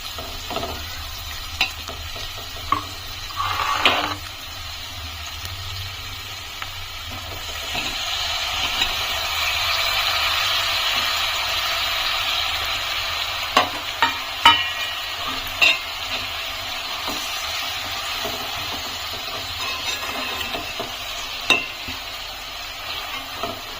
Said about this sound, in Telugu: ఈ ఉల్లిపాయలు ఫిష్ లైట్గా ఇలా బ్రౌనిష్ కలర్కి వచ్చిన తర్వాత ఇందులో టమాటాలు యాడ్ చేసుకుందాం